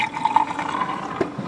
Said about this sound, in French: ça fait le bruit quand on ouvre une canette de coca.